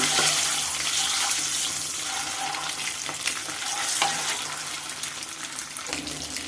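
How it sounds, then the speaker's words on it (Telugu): Eggs frying in hot oil until golden, giving a loud, steady, close sizzle and crackle that carries on unbroken, with a few faint clinks of a utensil under it and no voices. "గుడ్లని కదుపుకుందాం బ్రా బాగా గోల్డెన్ కలర్లో ఫ్రై చేసుకుందాం"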